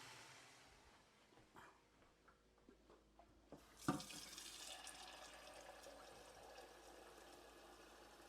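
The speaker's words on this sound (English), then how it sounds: "I'm going to put some water in there and just cover it down." Water poured from a tap into a cooking pot of takari, a quiet trickle building into a steady running flow partway through, fairly close and alone with no talk.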